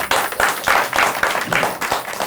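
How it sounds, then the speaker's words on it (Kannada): Studio audience on a Kannada family game show clapping together, a dense steady patter of many hands sustained throughout with rhythmic surges, fairly close and loud. "ವೆರಿ ಗುಡ್ ಆನ್ಸರ್ ಚಪ್ಪಾಳೆ ಹೊಡಿ"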